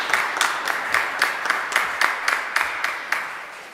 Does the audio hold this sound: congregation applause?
yes